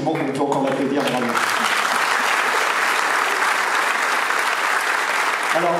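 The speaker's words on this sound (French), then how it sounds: "Et il l'a fait très très gentiment, on peut encore l'applaudir." Loud, sustained audience applause filling the room, rising quickly after a brief moment of speech and continuing steadily.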